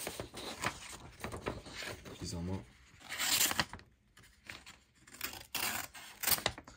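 Quick snipping and tearing of paper by the small scissors of a Gerber Dime multitool, a few short crisp cuts close by, mixed with handling noise.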